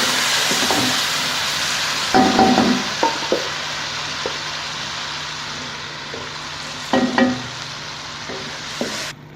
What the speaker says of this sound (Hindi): सारी दाल में हमने तड़का लगा लिया।